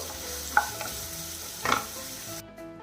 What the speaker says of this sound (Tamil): அதையும் சேர்த்து வதக்கிடலாம் மீடியம் ஃப்ளேமில் வச்சுக்கோங்க வெங்காயம் நல்லா வதங்கட்டும்